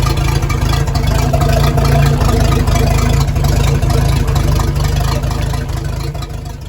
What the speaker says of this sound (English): Pumping right and the flow going, go ahead and start your boat.